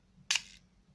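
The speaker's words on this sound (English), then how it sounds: "the shutter is working." A single crisp mechanical shutter click from a Smena 8M film camera under repair, sharp and close, with a brief bright snap followed by a short fading rattle in a quiet room.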